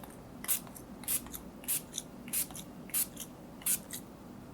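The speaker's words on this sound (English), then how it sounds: "Now I'm going to spritz my face with the NYX Dewy Finish makeup setting spray." Six short, crisp spritzes of NYX Dewy Finish makeup setting spray onto a face, spaced evenly about half a second apart, close by over a quiet background.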